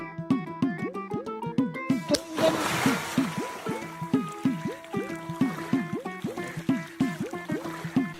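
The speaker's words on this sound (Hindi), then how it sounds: "पाइप के आगे गुब्बारा बंधा हुआ था, ये उसके फटने की आवाज है" A water-filled balloon tied to the end of a pipe bursts with one short, sharp splash, partway through a steady run of rhythmic background music.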